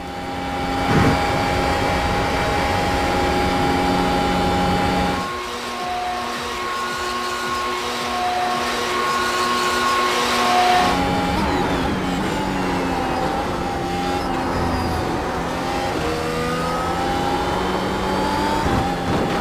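Mercedes W12 Formula 1 car racing at Spa in iRacing, its engine a loud, continuous high-pitched whine that rises and falls with gear shifts, with no talking.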